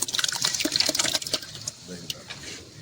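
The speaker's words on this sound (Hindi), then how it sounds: "अब इसके बाद हम दही डालेंगे" Yogurt being poured into a pan of fish curry for fish karahi, giving a wet, splashy pouring and sloshing sound that is loudest at the start and then fades to quieter stirring.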